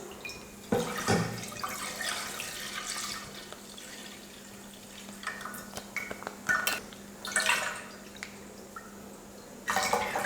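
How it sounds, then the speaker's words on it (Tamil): Milk poured from a container into a pan while making carrot and sago payasam, a quiet steady liquid trickle with soft splashes and a few clinks near the end. "பாயசத்துக்கு பால் ஊற்றிக்கலாம்"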